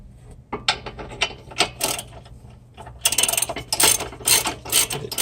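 A ratchet turns a 19mm socket on a sway bar bolt during a front Hotchkis sway bar install on a Lexus IS300, making quick clicking bursts, sparse at first and then dense and rapid.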